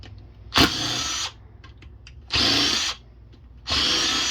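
Power tool, likely an impact driver or drill, removing a bolt from a 2005 Acura TL transmission during teardown for valve body issues: three loud bursts of about half a second to one second each, separated by quiet gaps with faint clinks.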